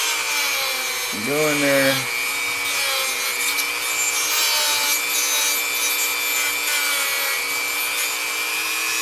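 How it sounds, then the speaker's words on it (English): A Dremel rotary tool cuts the mouth of a wooden fingerboard. Its motor whine rises briefly, then settles into a steady close grinding and rubbing. A voice speaks briefly over it. "So the Dremel is probably the best way to do the mouth."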